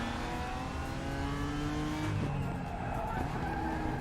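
Race car engine revving steadily with tires skidding and squealing in the RaceRoom racing game, a continuous loud drone with shifting engine tones throughout.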